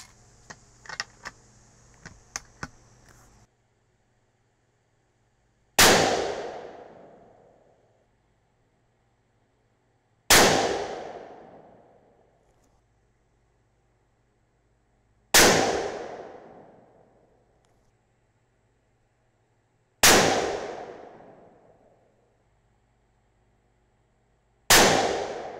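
Five loud, sharp rifle shots from a .22-250 Remington firing 50-grain Nosler Ballistic Tip bullets, spaced about five seconds apart, each cracking up close and then ringing away. A few faint clicks come before the first shot.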